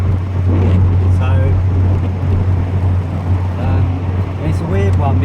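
A car rolls along quietly after a wheel bearing repair, giving a steady low road hum with engine drone throughout and no loud grinding, while someone talks over it.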